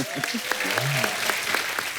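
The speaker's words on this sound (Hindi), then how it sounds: "जोरदार ताली प्रोमो के लिए।" A television studio audience claps in a steady, dense burst of applause with rhythmic individual claps standing out, while a voice briefly speaks over it.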